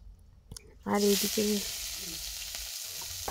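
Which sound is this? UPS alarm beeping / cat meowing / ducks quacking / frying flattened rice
frying flattened rice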